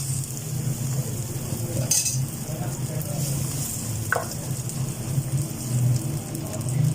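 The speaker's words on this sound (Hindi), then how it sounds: "प्याज को मैंने काट लिया। अब मैं इसमें ऑयल डालती हूँ।" Chopped onions sizzle loudly in a pan after oil is poured in, a dense steady crackling hiss with a low bubbling undertone and a couple of brief clinks, no one speaking.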